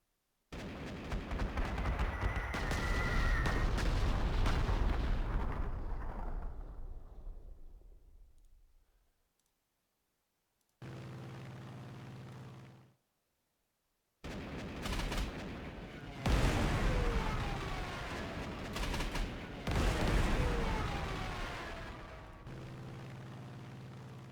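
Bombing strike on an anti-aircraft gun in the strategy game Panzer Corps 2: a heavy rumbling explosion swells and fades, then after a short silence more booming blasts and crackling bursts of fire follow, loud and alone.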